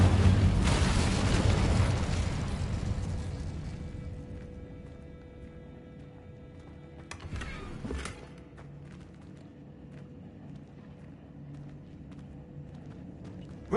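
A fire spell cast in the Hogwarts Legacy video game erupts in a loud, roaring burst that fades into a low rumble, followed by a second sharper whoosh a few seconds later.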